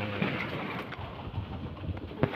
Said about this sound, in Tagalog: Basang basa na nga iba nating kalapate oh.